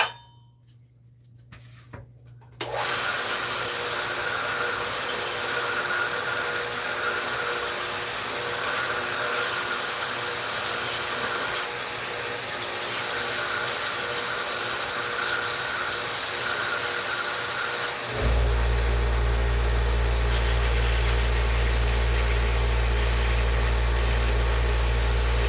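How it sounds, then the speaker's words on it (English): Workshop air compressor starting up with a loud motor whine and hum that runs steadily after a short quiet start, then shifts to a deeper, heavier drone near the end. "Hear my compressor going off."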